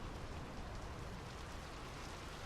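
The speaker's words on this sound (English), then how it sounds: "The rain's picking up." Steady rain falls across a coastal fjord setting in the video game Draugen, a dense, even hiss of drops on surfaces that holds constant throughout with no voices.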